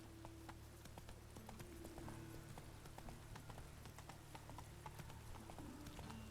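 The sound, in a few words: horse Roach clip-clopping in video game The Witcher 3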